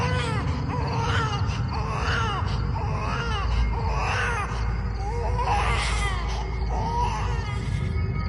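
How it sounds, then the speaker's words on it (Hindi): Soft, wailing cries like a young girl sobbing in pain, repeated in drawn-out rising and falling phrases over a steady low rumble, with no clear speech. "एक बच्ची जैसी रोने की आवाज"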